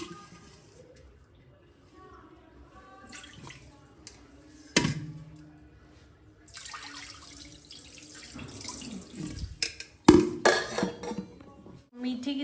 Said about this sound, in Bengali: এইদিকে হচ্ছে আমি চালটা ধুয়ে নেবো।